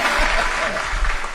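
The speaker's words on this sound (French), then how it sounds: "on peut quand même l'applaudir" Applause from a comedy-show audience at a live podcast taping during a festival, clapping mixed with a voice or crowd murmur underneath, fairly loud and steady.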